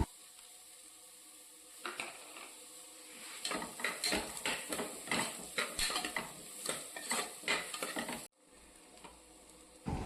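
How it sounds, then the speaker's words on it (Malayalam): Chopped tomatoes are sautéed with spice powders in a pan for chana biryani: loud continuous sizzling with busy, rhythmic scraping and stirring of a spoon against the pan, then a sudden quieter sizzle near the end, with no voices. "പൊടികളുടെ പച്ചമണം മാറിയ ശേഷം അരിഞ്ഞു വെച്ചിരിക്കുന്ന തക്കാളി കൂടിയിട്ട് വഴറ്റാം"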